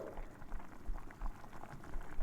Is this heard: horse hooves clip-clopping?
no